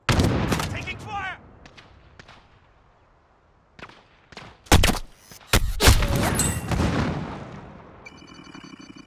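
Gunfire in Call of Duty: Modern Warfare, with loud close bursts and scattered single shots, some quieter distant firing between, and brief voice snippets in the game mix.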